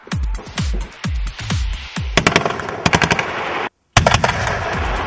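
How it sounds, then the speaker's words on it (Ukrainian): Heavy automatic fire from an armored personnel carrier's weapons on a firing range, in rapid bursts, loud and close, with sharp cracks and booming echoes, then a brief silence before more shots. "На вогневій ділянці третєкурсники стріляють із озброєння ВТР."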